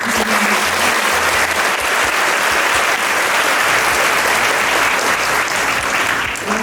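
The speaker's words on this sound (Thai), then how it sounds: "ขอพวกขอเสียงปรบมือให้กับ" A large audience claps loudly and continuously after a musical performance at an event held at the Chonburi women's correctional institution, a thick, sustained wash of hands with no break.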